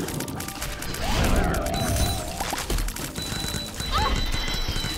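A video game horse whinnies with a wavering neigh amid a clatter of hoof clip-clops and mechanical clicks, loud and busy, with a second brief whinny near the end.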